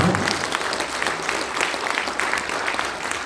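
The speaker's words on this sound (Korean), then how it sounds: "다시 한번 여러분들 박수 부탁드리겠습니다" At a political party launch ceremony, a hall audience gives sustained, evenly dense applause for a guest speaker, continuing without pause at moderate loudness.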